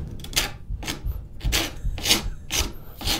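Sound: rasp filing a straight razor handle

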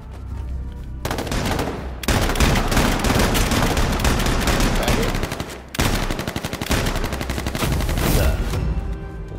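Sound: gunfire in video game H1Z1 Battle Royale

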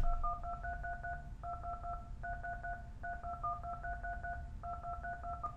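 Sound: telephone keypad DTMF tones playing Mary Had a Little Lamb

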